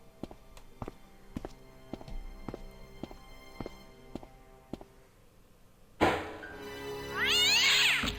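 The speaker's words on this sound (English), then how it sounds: "You got jump scared by a kitty cat." A cat in the point-and-click adventure game Broken Sword lets out a loud, sudden meow and caterwaul near the end, after a stretch of sparse rhythmic footstep-like ticks.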